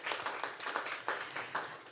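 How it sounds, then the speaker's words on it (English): Audience applause closing a panel discussion, a brief burst of clapping from a room of listeners, steady and fairly close with no voices over it. "A round of applause for them."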